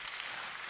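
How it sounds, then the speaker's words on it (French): A church congregation applauds together, a brief burst of steady, dense clapping that fills the room evenly from start to end. "Acclamons le Seigneur."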